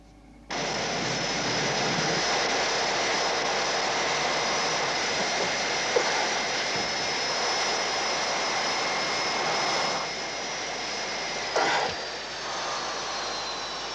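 Spacecraft engines from the science-fiction series Space: 1999 roar in a steady, loud, continuous rumble with a high whine on top, shifting slightly in tone partway through, with no voices.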